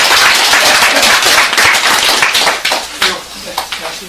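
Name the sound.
audience applause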